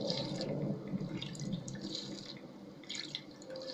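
Water drinking in the video game Fallout 4, heard as a steady dripping, trickling stream like water running from a tap, continuous and fairly close throughout.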